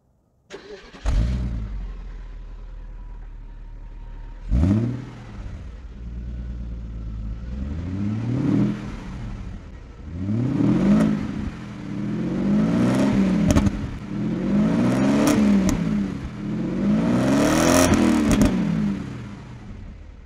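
A 1999 Audi A8 D2 engine cranks and starts, settles into a steady idle, then is revved repeatedly in rising swells that grow louder with each blip, heard close and without talk.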